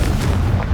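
A Confringo fire spell cast in Hogwarts Legacy bursts as a short, deep, booming blast with a rumbling low end, loud and close.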